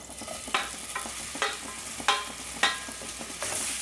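Cut paneer sautéing in a little oil in a kadai: a soft steady sizzle broken by about six sharp scraping stirs of a spoon against the pan, close and clear with no talking.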